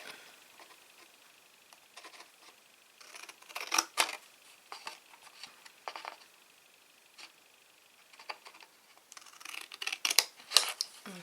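Scissors snipping paper pieces on a craft table while using a We R Memory Keepers punch board, a series of short, crisp cuts in irregular clusters, close and quiet, with no speech.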